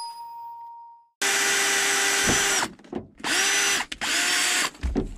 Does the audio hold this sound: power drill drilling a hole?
yes